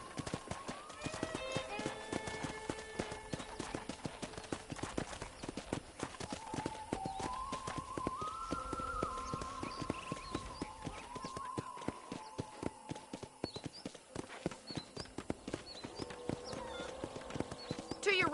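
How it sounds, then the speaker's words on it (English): Rhythmic hoofbeats of a ridden horse in the Red Dead Redemption video game clop steadily at walking pace, under a character talking and soft background music. "let's see if you can still ride a horse"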